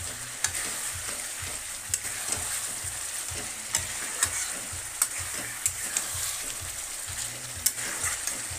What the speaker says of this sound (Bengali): তেল বেরিয়ে গেছে মশলা দিয়ে, তার মানে কষানোটা ঠিক হয়ে যাবে